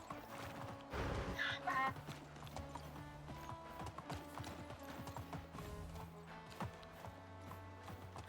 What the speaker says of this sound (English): Trying to keep the donkey out of harm's way.